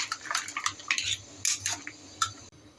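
Metal utensils scrape and clatter against a kadai in irregular bursts, with green mussel shells knocking together as they are stirred close by.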